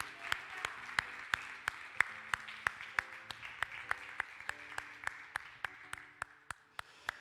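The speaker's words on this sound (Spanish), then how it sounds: "démosle un aplauso al Señor" Church congregation clapping during a Sunday service, a faint, steady rhythmic clap in time with sustained organ-like tones underneath, fairly distant and quiet.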